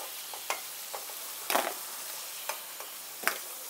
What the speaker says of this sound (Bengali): এখন আমি আলুগুলোকে তুলে নিচ্ছি।